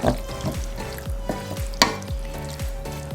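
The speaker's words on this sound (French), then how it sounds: "Donc là, je vais laisser mijoter." Chili con carne cooks in a pan with a steady sizzle. A spoon scrapes and stirs it in a regular rhythm, about two strokes a second, heard up close.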